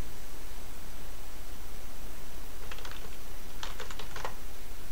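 Two quick bursts of keyboard typing, soft clicks tapping rapidly over a steady background hiss.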